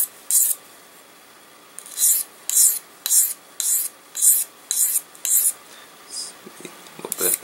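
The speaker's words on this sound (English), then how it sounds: "I'm sharpening at like 15 to 20 degree angle." Knife blade sharpened on a sharpening stone oiled with olive oil at a 15 to 20 degree angle, close and crisp, about ten evenly spaced rasping strokes with short pauses between them, no talking.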